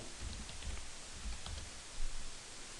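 Fingers tap out a computer name on a keyboard during network setup, the soft keystrokes quiet and close in irregular little runs against a faint background hiss.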